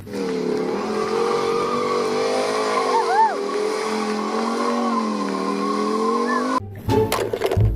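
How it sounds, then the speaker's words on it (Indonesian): Toy racing motorbike giving off a steady electronic engine whine with rising and falling pitch, a brief squeal-like chirp midway, then ending in clattering handling noise. "Wah, ada motor balap."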